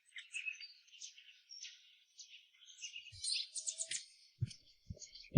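Birds chirping in trees, a series of short high bright chirps and tweets in quick bursts, fairly close and clear, with a few soft thumps near the end and no talk.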